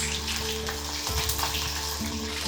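Chicken pakora frying on low gas gives off a dense, continuous bubbling sizzle from oil close by, steady throughout with small crackles and a faint low hum beneath.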